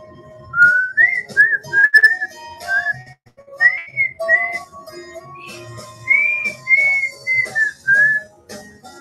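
A person whistles without a tune in a series of short, wavering notes with gaps between them, close and fairly loud, with no talking.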